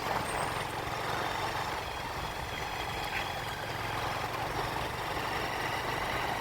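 Steady engine drone and road rumble from a vehicle carrying two riders, continuous and fairly close with no voices.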